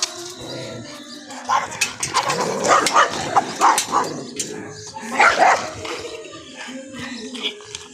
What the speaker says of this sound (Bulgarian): Ете кучета.